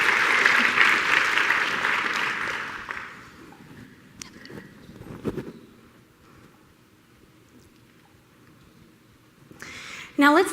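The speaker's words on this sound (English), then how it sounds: "now we can give a final last clap to Eric for his amazing performance." Audience applause after a performance at a robotics and cloud computing tech talk, a burst of clapping for about three seconds that quickly dies away into a quiet room with a few faint knocks.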